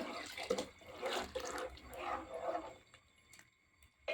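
Water pours into a pot of sambar with a faint, close, splashing gurgle for about three seconds. It then fades to near quiet, with a few small drips.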